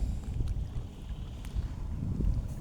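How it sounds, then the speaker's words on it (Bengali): Strong wind buffets the microphone out on a river in bitter cold and fog, a steady low rumble with gusting surges and rustling buffets, loud and close, with no talk. "অনেক বাতাস"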